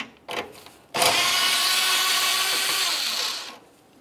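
A power tool, likely an impact or ratchet driver, spins off a 10 millimeter mounting nut during A/C condenser work on a 2010-2013 Ford Transit Connect: a steady whirring burst of about two and a half seconds, close and loud.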